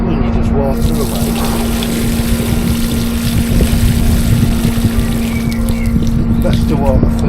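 Garden being watered with homemade weed tea fertiliser diluted in nine litres of water, a close, loud, continuous splashing and gushing of poured water with a steady hum running beneath it.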